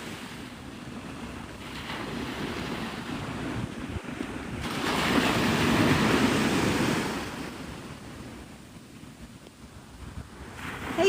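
Waves and wind at Navarre Beach, Florida, at sunrise: steady surf wash swelling louder in the middle, with gusty wind rumbling against the microphone and no voices.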